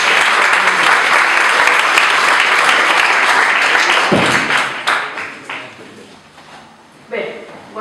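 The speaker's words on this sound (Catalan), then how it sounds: "Un fort aplaudiment." A crowd claps loudly at a candidates' presentation event for party primaries in Sueca; the dense applause lasts about four seconds, then fades into scattered claps and a voice speaking.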